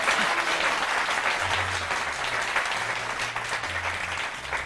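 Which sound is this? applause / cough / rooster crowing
applause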